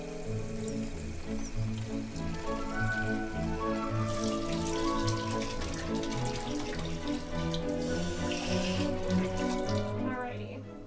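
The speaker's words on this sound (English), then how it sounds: "I'm going to turn the sink on" A sink tap runs steadily at a cat cafe, filling a bin with water, a continuous rushing stream with a shifting, rising tone as the bin fills, moderately close and heard alone.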